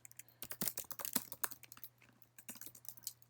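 Keys clatter on a computer keyboard while code is typed in a text editor, a quick uneven run of close, crisp clicks with a short pause midway, and no one talking.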